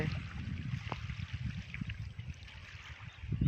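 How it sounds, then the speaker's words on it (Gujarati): Water flowing at Sukhi dam in Pavi Jetpur, heard from the roadside beside the flooded reservoir, a steady low rushing wash with light splashy texture running continuously, no talking. "અને પાણીનો મસ્ત અવાજ આવે છે"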